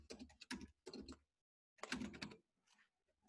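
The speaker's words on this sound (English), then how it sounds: "So if I start typing search" Quiet bursts of rapid keystrokes on a computer keyboard, as someone types a search query, in short clusters with a brief pause between them.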